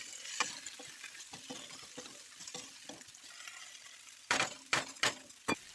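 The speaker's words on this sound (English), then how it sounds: "I'll let these fry until the onions have softened" Potatoes, onions, garlic and peppers fry quietly in a pan for a Filipino chicken stew, soft sizzling broken by stirring scrapes and a few sharp clinks of a utensil against the pan toward the end.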